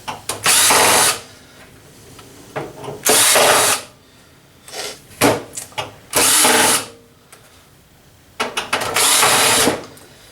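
A power drill spins out screws from a desktop computer motherboard in repeated short whirring bursts of about a second each, separated by quieter clicks and handling noises, loud and close with no talk.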